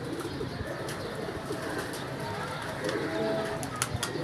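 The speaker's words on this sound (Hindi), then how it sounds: "कुछ कबूतर ऊपर आए हैं" Pigeons coo softly on an open rooftop, their low murmuring calls scattered through steady outdoor background noise, moderately close and without talk.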